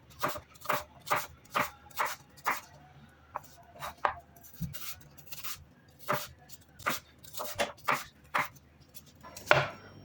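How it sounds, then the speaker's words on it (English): Apples are chopped with a knife on a board in quick, close, crisp strikes, a steady run of about twenty chops in short bursts with brief pauses, no voices. "Once all your apples are chopped,"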